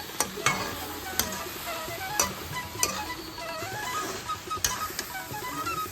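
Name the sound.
banana flower curry frying and being stirred in pan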